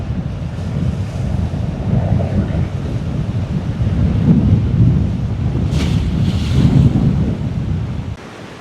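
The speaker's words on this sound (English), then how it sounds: "the pier breaks the wave slightly." Rough sea waves break and surge against a pier in Denmark on a stormy day, a deep rolling roar with strong wind buffeting the microphone and a brief splashing swell near the end.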